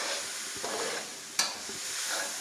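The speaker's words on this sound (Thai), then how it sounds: "ต้องรวนหมูแบบนี้ก่อนค่ะ" Minced pork stir-fries in a hot pan for Thai larb, giving a continuous close sizzle and hiss. Spatula scrapes and one sharp clack from stirring cut through it.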